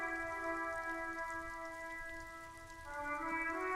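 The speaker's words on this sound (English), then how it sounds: "So here I am, and it's fucking raining." Steady rainfall patters throughout a scene in the video game Disco Elysium, with sustained tonal music or ambience layered over it and no speech.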